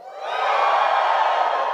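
A church congregation lets out a loud, sustained shout and cheer that swells quickly and holds steady, many voices yelling together.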